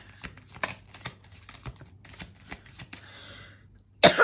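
Tarot cards are handled with a run of crisp taps and clacks, then a brief riffling shuffle, ending in a sudden loud knock close by.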